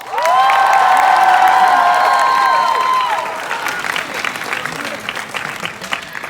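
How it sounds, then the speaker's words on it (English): A convention panel crowd cheers and applauds for an Overwatch voice actor, with loud shouts and whoops at first, then easing into steadier clapping with scattered yells. "please, a round of applause for the Empress, Lucy Paul"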